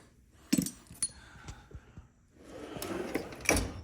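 A metal tool drawer slides open and shut in a workshop, with sharp clanks and rattling tool clinks, then a rolling slide, close by with no talk.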